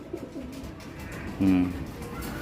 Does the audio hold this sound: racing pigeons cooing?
yes